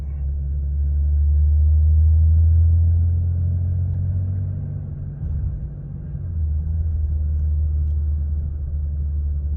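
A 2010 Cummins diesel truck with a 68RFE transmission accelerates hard, its deep engine rumble swelling, dipping briefly as it shifts, then pulling again loud and close from inside the cab.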